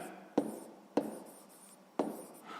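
Pen strokes on paper during a sixth-grade maths exercise, three crisp separate scratches spaced about half a second apart, close and fairly quiet, with no voice over them.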